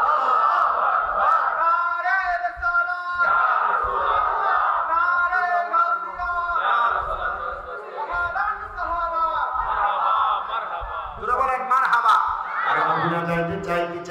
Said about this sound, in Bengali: আর জবান খুলে জোরে একটা তাকবীর হবে